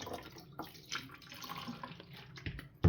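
Vinegar is sprayed onto the parts of a Dolce Gusto coffee machine during descaling, giving soft, close hissing bursts of liquid with a sharper spurt at the end.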